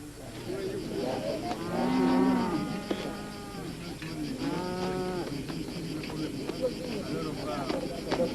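Cattle of Mundari herdsmen low in two deep, drawn-out moos a few seconds apart, fairly close, with a steady outdoor background and someone talking over the animals.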